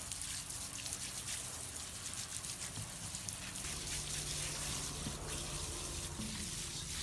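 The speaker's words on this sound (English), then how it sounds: "I'm going to use my hose here to show you, but the goal is we want to soak this entire" A garden hose pours water into the earthen berm around a Pinkerton avocado tree, a steady, fairly quiet gush and trickle that runs continuously with no talking.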